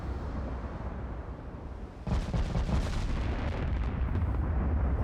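Heavy battleship-caliber naval gunfire in a naval warfare video game, a broad low rumbling blast that erupts midway and rolls on loudly as continuous booming.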